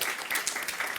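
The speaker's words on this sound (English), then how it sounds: "so clap for them as well." An audience applauding at a fintech festival event, a dense continuous patter of many hands clapping, full and fairly loud for a brief moment.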